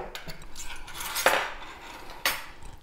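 A teaspoon of vanilla going into cake batter: sharp metallic clinks of a spoon against a bowl, two distinct louder taps among softer scraping, close and clear with no talking.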